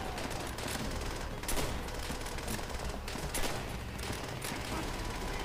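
Rapid video game gunfire rattles in continuous overlapping bursts, a busy crackling barrage at steady moderate loudness with a few stronger shots standing out.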